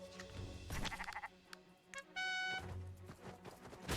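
Sheep bleat in the video game Commander Quest, several wavering, nasal cries close by, mixed with short tonal game effects and a brief steady chime.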